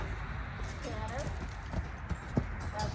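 A Tennessee Walking Horse cantering during a training session, soft rhythmic hoof thuds at a moderate distance under a person speaking.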